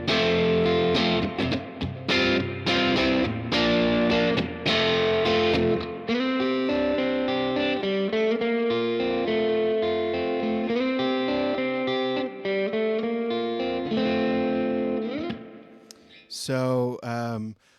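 An electric guitar plays a surf riff through a VOX AC10 amp with its spring reverb, the pedal off: loud, bright picked notes and chords in a quick rhythmic pattern, with a reverb tail washing around each phrase before a brief final strum.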